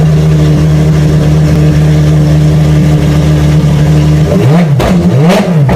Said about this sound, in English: the Ferrari FXXK is a sound experience so intense, it's hard to believe it's real